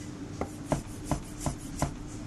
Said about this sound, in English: And then we come in with a knife, and then just slow, a couple at a time.